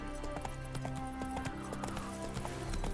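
Roach, Geralt's horse in The Witcher 3, clip-clops with a quick, uneven run of hoofbeats, with a brief whinny mixed in beneath a faint voice.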